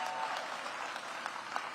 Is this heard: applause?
yes